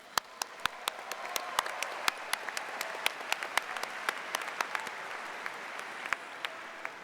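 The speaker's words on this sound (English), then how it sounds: "Give yourselves a round of applause." Graduates at a Wichita State University spring commencement for the College of Engineering and Barton School of Business applaud themselves, a sustained, fairly distant ovation from a large hall with sharp individual claps popping out of the crowd noise.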